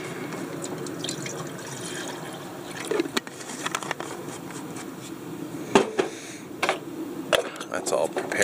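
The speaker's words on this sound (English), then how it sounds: "Get a little water in the kettle." Water poured into a Trangia kettle outdoors, a steady liquid trickle and splash running throughout with a few sharp clinks and knocks of the metal kettle near the end.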